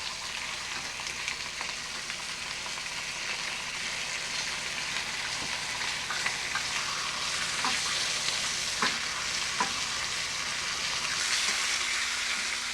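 Food browning and sizzling in a frying pan, a steady broadband hiss filling the whole clip at close range, with occasional sharper pops and spatters and no talking.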